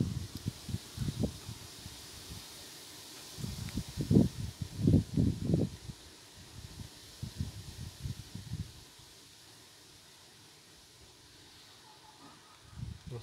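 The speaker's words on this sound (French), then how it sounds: "Le vent continue hein, les gens, mais bon il est moins violent que tout à l'heure quand même." Strong wind gusts rustle leaves during a thunderstorm with a windy squall line near Grenoble in the Alps, irregular rushing bursts that fade to a quieter steady breeze.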